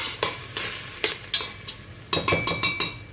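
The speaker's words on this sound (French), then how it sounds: "On mélange tout ça." Seasoned minced meat mixture with salt and pepper being stirred in a bowl for meatballs, giving about ten moist, rhythmic scraping strokes, close and clear, with no talking.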